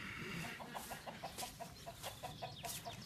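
A chicken clucks in a rapid, regular series of short clucks, fairly close and moderately loud over faint outdoor background, with no talking.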